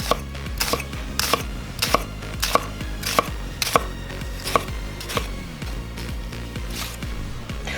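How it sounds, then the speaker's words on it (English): A chef's knife slices through an onion on a cutting board, a rhythmic series of about a dozen crisp, close chops at an even pace, with no talking. "You're gonna slice all the way through, following the natural curve of the onion"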